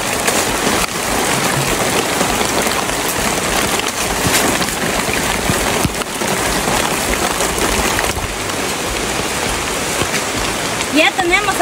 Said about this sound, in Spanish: empezó la lluvia, ¿ven?